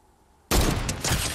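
Silence in Fortnite on PS5, then a sudden burst of rapid gunfire begins halfway through, loud and sustained with several quick shots stacked together.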